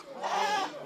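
A goat bleats once in a drawn-out, wavering cry on a farm where newborn kids have just arrived, fairly close and clear with no talk over it.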